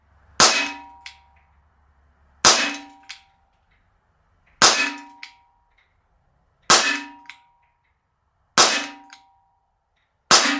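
A KWC PM Makarov non-blowback CO2 pellet pistol fires six shots at a target, each a sharp, close crack with a brief metallic ring, spaced about two seconds apart with quiet between.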